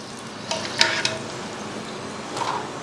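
French fries being lifted from hot oil to drain, a soft ongoing sizzle with a few bright metallic clinks of a basket or utensil, no voices.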